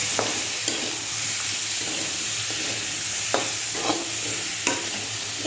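Crab tipped into a hot frying pan keeps up a steady, close sizzle, with a few scattered scrapes and knocks of stirring and no voices.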